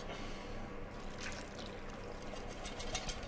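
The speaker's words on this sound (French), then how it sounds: "On va mettre voilà, le jus qu'on a déglacé." Deglazed cooking juice pours into a cocotte of potatoes and thyme for a Normandy casserole, a soft, close trickle and splash that runs steadily for a few seconds.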